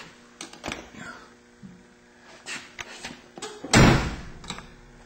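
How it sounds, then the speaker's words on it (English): A car's driver door is swung shut, ending in one loud, close thud after a few softer handling clicks and knocks. "If you close the door"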